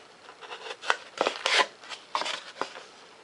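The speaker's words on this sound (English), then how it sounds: "Come in here with an X-Acto knife. Take and trim this piece out." An X-Acto knife trims foam for a 70mm EDF thrust tube, giving several short scraping, slicing strokes in irregular rhythm, close and fairly quiet, with no talking.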